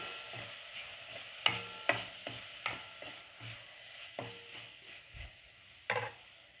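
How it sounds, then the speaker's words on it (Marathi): Soaked lentils being stirred into roasted masala in a pan for a spicy cabbage sabji, with a series of scraping spoon strokes over a low sizzle, close and fairly quiet, no voices. "आता आपण याच्यामध्ये टाकून घेऊ आपण भिजवलेली डाळ. याला पण याच्यामध्ये मिक्स करून घेऊ छान."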